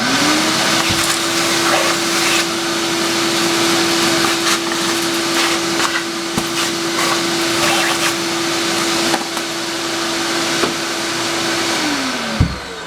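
A vacuum cleaner runs loudly and steadily with a constant motor whine, then winds down and cuts off near the end.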